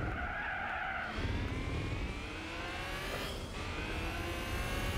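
In Gran Turismo 4, a car's engine drones steadily while its tires squeal and skid in long, sliding whines. Engine and tire noise run loud and continuous, with no talk.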